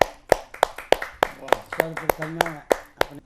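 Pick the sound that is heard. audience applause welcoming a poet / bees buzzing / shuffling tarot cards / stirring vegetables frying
audience applause welcoming a poet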